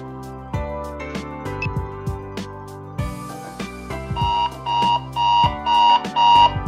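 A countdown timer cue at an engineering quiz bee runs for several seconds as a tonal musical jingle, with repeated beeping notes that grow louder and sharper toward the end.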